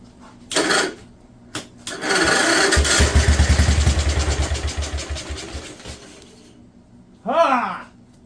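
A 1958 Wisconsin AENLD engine on full choke fires a couple of times, then catches and runs with a loud, rapid chugging rhythm that slowly winds down before a short final burst.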